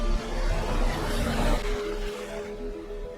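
A police car drives away in a movie scene, its broadband engine rumble loud at first and then fading as it recedes.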